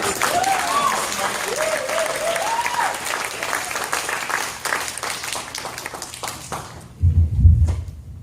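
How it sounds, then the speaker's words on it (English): A church congregation applauds together, steady dense clapping that fills the room for several seconds before tapering off, with a brief low thump near the end. "So give yourselves a round of applause."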